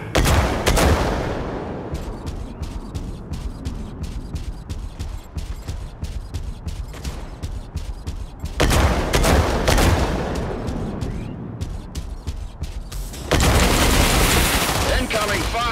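Dense rapid gunfire and heavy explosive booms from the mech combat game Mech Arena, loud and sustained with bursts of rattling shots, a few brief gaps and a big blast near the end, with a voice calling out over the action.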